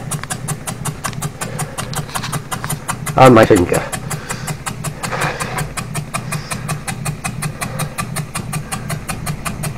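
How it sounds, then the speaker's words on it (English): A small trapezium con-rod model engine running on compressed air chuffs in a fast, even rhythm throughout, with someone speaking briefly over it. "there's my trapezium Conrod engine"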